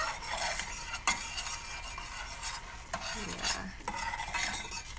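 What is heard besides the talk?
stirring quinoa cooking in a pot on the stove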